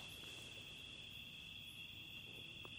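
A continuous high-pitched trill of crickets rings steadily over a faint low background hum, with no one speaking.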